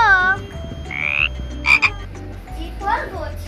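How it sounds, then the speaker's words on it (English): A frog croaks several times in short, uneven bursts of rasping calls, close and clear against a quiet background hum, with no talking. "F for frog."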